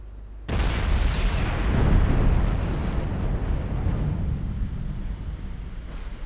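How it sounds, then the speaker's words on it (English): A warship flash fire explosion in the naval battle game Ultimate Admiral Dreadnoughts erupts suddenly into a loud, sustained roaring blast that swells and then slowly tails off over several seconds. "There goes that flash fire."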